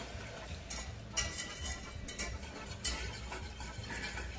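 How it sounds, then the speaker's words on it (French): Panna cotta mixture with coconut, mango and lime being whisked in a bowl, a faint quick clatter of wire against the sides under a soft hiss, close and without talk. "À l'aide d'un fouet, on va mélanger"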